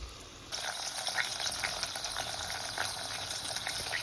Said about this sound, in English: I'd say that was simmering